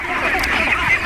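Ducks quack together on a Bangladeshi duck farm raising ducklings, a dense, continuous flock chatter close by with no clear pauses.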